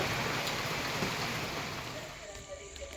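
Dense, steady hiss of rain falling on a village, fairly close and constant, gradually easing toward the end.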